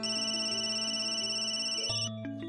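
A phone rings again with a steady electronic ringtone melody, loud and close, ending abruptly just before the last half-second with no voices.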